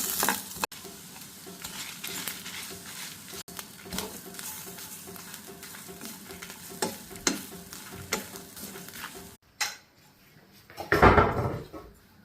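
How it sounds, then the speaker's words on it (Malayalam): Coriander seeds dry roasting in a pan for chickpea curry, stirred briskly with rattling, scraping strokes and a light sizzle. The stirring stops abruptly, then a brief louder clatter follows, close up. "കടലക്കറിക്ക് വേണ്ടിയിട്ട് മല്ലി ഒന്ന് വറുത്തെടുക്കുന്നതാണ്."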